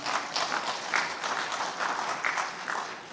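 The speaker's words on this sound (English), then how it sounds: "You didn't clap loudly because the Prime Minister did not hear." An audience in a SADC parliamentary plenary assembly hall applauds loudly, with dense, sustained clapping from many hands that fills the room evenly for the full stretch.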